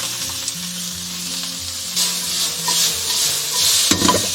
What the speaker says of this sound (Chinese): 先下入这个咸肉，给它爆香。